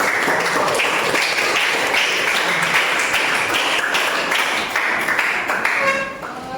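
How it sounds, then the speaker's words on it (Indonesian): Junior high students in an Indonesian science class clap together in a dense, steady round of applause that carries on for several seconds before thinning out at the end. "Tepuk tangan untuk semuanya."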